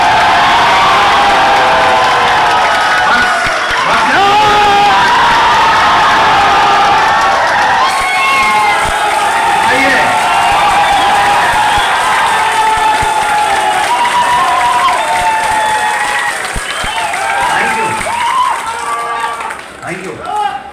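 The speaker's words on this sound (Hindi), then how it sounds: "दोनों हाथ ऊपर करके तालियां बजा के दिखा दो" A large crowd at a speech event in Sasaram claps and cheers with raised hands, a dense, loud, sustained wash of applause and shouts that fades slightly near the end.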